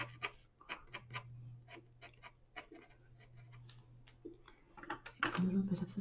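A grey pencil drawing across a watercolor canvas during a mixed-media demonstration gives quiet, close scratchy strokes and light taps in irregular bursts, with a louder scrape near the end.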